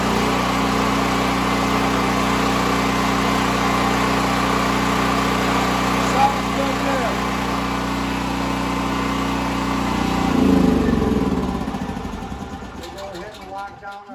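A Generac GP8000E PowerRush portable generator engine runs loud and close with a steady droning hum, then winds down and fades toward the end.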